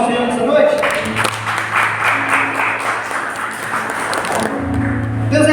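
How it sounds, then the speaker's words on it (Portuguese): Congregation applause during an evening church service, a broad wash of clapping that swells and fades over a few seconds, with sustained instrumental tones and a voice underneath. "Vamos aplaudir o Senhor nessa noite?"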